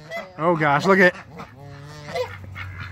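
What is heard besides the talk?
angry goose honking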